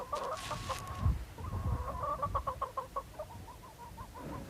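Chickens bought from villagers on a Silk Road journey clucking close by, a steady run of short repeated clucks and a few drawn-out calls, with farmyard rustle beneath and no talking.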